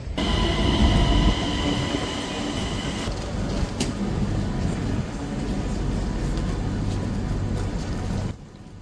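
An Øresundståg train bound for Copenhagen airport pulls in at a station platform: a loud, continuous rail rumble with a brief high squeal partway through, cutting off sharply near the end.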